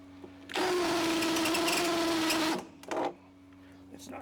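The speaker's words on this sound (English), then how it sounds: "Continue drilling." A power drill whirs in one close, steady burst of about two seconds during a generator cellular monitor installation, followed by a short rattle and quieter background noise.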